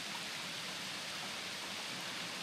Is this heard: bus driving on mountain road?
no